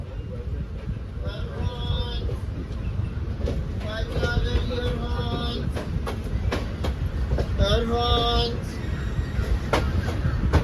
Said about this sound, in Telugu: ప్రస్తుతం మన ట్రైన్ అయితే ప్రకాశం బ్యారేజ్ మీదకైతే